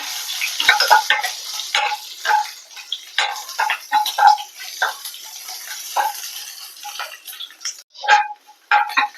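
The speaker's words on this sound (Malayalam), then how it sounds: "ചതച്ച് വെച്ചേക്കുന്ന ഇഞ്ചി വെളുത്തുള്ളി ഇട്ട് കൊടുക്കാം നല്ലപോലെ ഒന്ന് മിക്സ് ചെയ്ത് കൊടുക്കാം" Crushed ginger and garlic fry in a pan for a Kerala-style gooseberry rasam, stirred with a spoon that makes repeated close scraping and clinking over a light sizzle.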